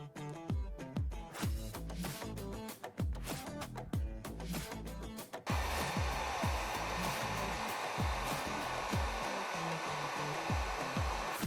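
Heat gun blowing steadily while shrinking heat shrink tubing on FPV drone wiring, a loud continuous airy roar that grows stronger partway through, with percussive music running underneath the whole time.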